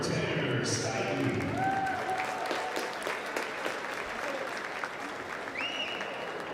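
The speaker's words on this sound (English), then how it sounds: "Big round of applause for Tanner Stanley" Crowd applause fills an arena at a varsity boys basketball senior recognition, steady dense clapping with some whistles and cheers rising over it, voices murmuring underneath.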